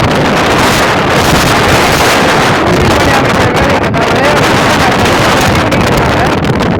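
Heavy cyclone wind from Cyclone Ditwah sweeps across the Pamban bridge in Tamil Nadu, a loud, constant roar that buffets the microphone with continuous gusting rumble and no speech.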